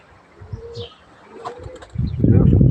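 A tumbler pigeon in flight gives a burst of loud, close wing flapping near the end, a low, fluttering rush after quieter moments with a few faint bird calls in the background.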